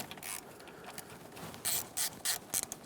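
Small T25 Torx bolts being loosened from a valve cover on a 3.6L Dodge Grand Caravan, with a few short ratchet clicking bursts near the end after quiet fumbling, close and fairly faint.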